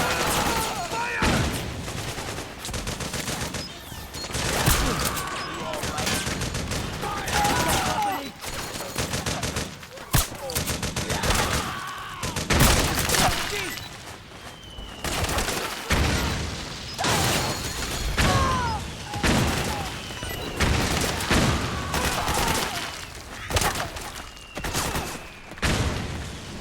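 Sustained suppressing gunfire from a Metal Gear Solid 4 battle, with dense overlapping rifle and machine-gun bursts, clattering weapon mechanisms and loud, continuous volleys that stay busy for the whole stretch.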